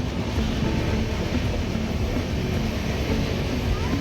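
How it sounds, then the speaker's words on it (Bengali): A crowded passenger train runs on the tracks, heard from inside as a loud, steady rumble and rattle that holds at the same level throughout. "এবং ট্রেনও ছেড়ে দিয়েছে"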